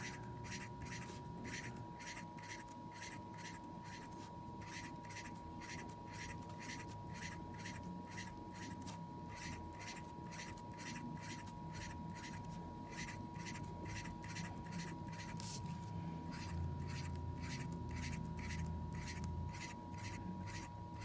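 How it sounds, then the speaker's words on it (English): Pen scratching curved lines and circles onto paper in a steady, rhythmic back-and-forth of soft strokes, close and continuous over a low background rumble. "just do curved lines by drawing circles"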